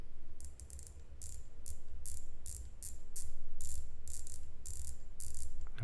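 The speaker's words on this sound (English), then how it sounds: "Listen to this click action is very clean and precise." A solid black ceramic dive bezel on a Seiko no-date black submariner-style watch turns in a steady run of crisp, quiet ratchet clicks, about a dozen in bursts, close up with no voices.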